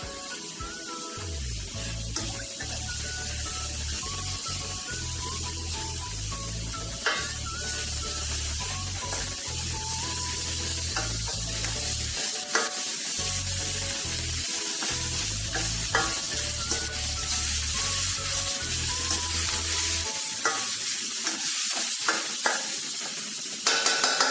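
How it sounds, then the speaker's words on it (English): Onion and tomato masala fries in a pan with a steady sizzle while a spoon stirs it in repeated scraping strokes, close and continuous with no talking. "அதாவது onion tomato ஓட இந்த மசாலா வந்து கொஞ்சம் ஃப்ரை பண்ணணும்."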